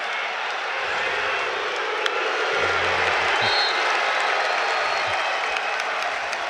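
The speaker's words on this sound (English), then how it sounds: "A lot of cheering going on over for the AAA match." At a 2011 Illinois high school boys state wrestling final, a distant arena crowd cheers and claps as a steady, moderately loud roar, with a few thuds and a brief low tone underneath.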